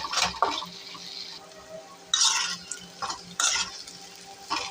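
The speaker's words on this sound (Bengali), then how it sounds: "এখন আদা রসুনটা দিয়ে দিলাম। এখন ভালো করে এগুলো দিয়ে ভাজতে হবে।" A spoon scrapes and stirs bird eggs frying with ginger and garlic in a pan for a spicy egg bhuna, in several separate bursts of clattering strokes with quiet gaps between them. Nobody speaks.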